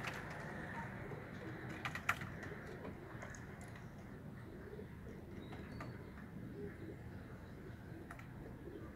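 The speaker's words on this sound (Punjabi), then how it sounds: "ਬਹੁਤ ਤਗੜੇ ਕਬੂਤਰ ਜੇ" Teddy-breed pigeons coo softly in a loft, a low, faint burbling over a steady background hum, with a few brief ticks and clicks scattered through it.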